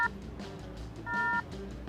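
Telephone keypad tones sound as two short electronic beeps, one brief and one held longer, over a quiet background in a Benidorm setting.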